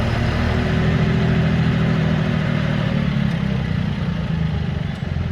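A tractor engine lugging slowly in a special low gear, a loud, steady low-pitched rumble that holds even throughout, close and alone with no talk.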